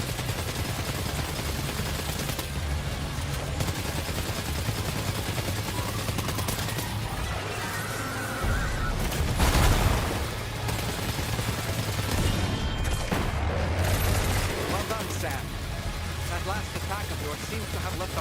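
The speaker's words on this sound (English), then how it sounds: "That's what we need right now, machine pistol." Machine pistol gunfire in the video game Death Stranding 2, heard as bursts of shots over a steady rumbling game soundscape, with heavier blasts around the middle and talk underneath.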